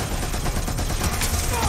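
Gunfire in a busy Watch Dogs Legion shootout, a dense, steady stream of shots with no gaps, loud throughout and mixed with other game noise.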